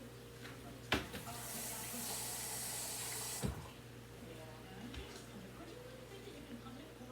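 A kitchen tap runs hot water for cooking in a home kitchen, a brief rushing stream of a couple of seconds bracketed by clunks, with a low background hum and quiet sounds afterward.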